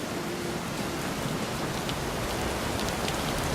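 Steady rain pours onto a ship's deck in the fantasy role-playing game Pillars of Eternity 2: Deadfire, a dense, continuous hiss of drops drumming the surface at a constant loud level throughout.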